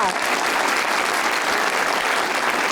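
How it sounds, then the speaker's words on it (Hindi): A studio audience on a comedy show breaks into strong, dense applause, a loud, steady wash of clapping that holds for the whole stretch. "इतनी दमदार तालियां"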